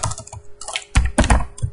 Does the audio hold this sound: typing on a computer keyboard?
yes